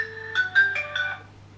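A telephone rings with a quick sequence of four or five chiming electronic notes that fade out after about a second, with nothing else heard.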